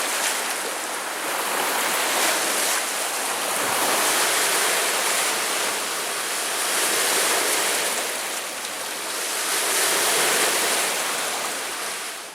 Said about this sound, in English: You can check out these waves.